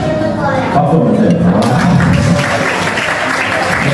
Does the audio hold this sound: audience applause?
yes